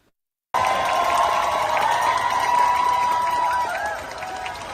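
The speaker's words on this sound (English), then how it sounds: "The Boston streets were filled with shouts of celebration and echoes of pride at the 127th Boston Marathon" Spectators line the street at the 127th Boston Marathon, cheering and shouting in a dense, continuous crowd roar with whistles and scattered voices, fading slightly toward the end.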